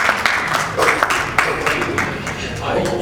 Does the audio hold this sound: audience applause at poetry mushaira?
yes